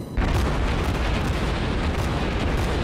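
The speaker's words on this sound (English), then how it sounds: "This is the thing about the cruiser, is it can launch a barrage very quickly." A naval cruiser in World of Warships launches an artillery barrage, a sudden loud, dense rumble of gunfire that hits hard and rolls on as a sustained low roar.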